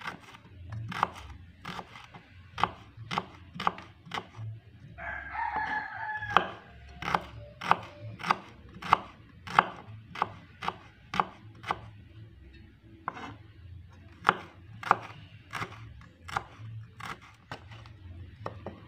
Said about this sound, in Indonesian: Kemudian bawang merahnya kita iris semuanya ya,